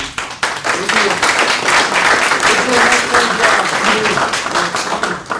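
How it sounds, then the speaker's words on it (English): A council meeting audience gives the city staff a round of applause, a steady, dense clapping from many hands that stays loud for several seconds with murmured voices mixed in. "A round of applause for them."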